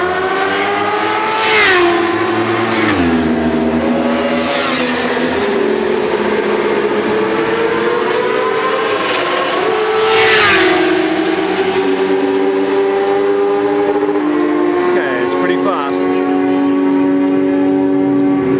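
Go-karts racing around the track at Dubai Autodrome, a steady engine drone with several buzzing karts sweeping past in rising and falling whines, loud and continuous with no talk.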